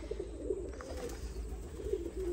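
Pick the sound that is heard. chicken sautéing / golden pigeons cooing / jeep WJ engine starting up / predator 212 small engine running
golden pigeons cooing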